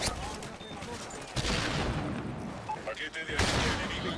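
Turret fire in Call of Duty MW3 on the map Fallen, heavy bursts of automatic shots and booming impacts in waves, with a voice talking over the combat.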